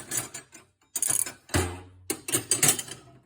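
A 24mm ratcheting combination wrench clicks up close in several short bursts of quick ratchet ticks, separated by brief pauses, with no voices.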